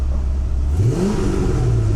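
A 1980s Mercedes-Benz W126 560SEL engine, freshly rebuilt, revs up sharply, its pitch climbing quickly from a low idle rumble to a higher whine, close and loud.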